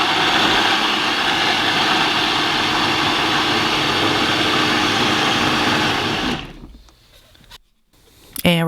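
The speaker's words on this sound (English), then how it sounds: "Place all the chopped cabbage into a blender, and we're going to add in some water." A blender whirs at full speed with a steady loud drone as it purees chopped purple cabbage with water, then cuts out, followed by a few quiet clicks.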